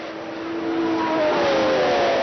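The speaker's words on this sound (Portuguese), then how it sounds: "Jean-Pierre Jabouille larga bem e já toma a ponta" 1980 Formula 1 cars roar off the grid at the German Grand Prix, a loud continuous engine howl with rising whining pitches as several cars accelerate together.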